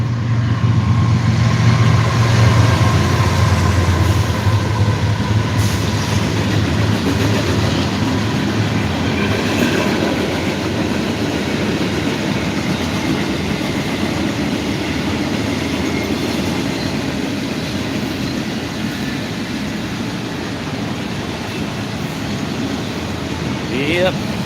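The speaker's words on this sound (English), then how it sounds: "Yep, got a train." A train rolls past steadily for the whole stretch, a loud and continuous rumble with a rhythmic clatter of wheels on the rails and some grinding noise. No one talks over it.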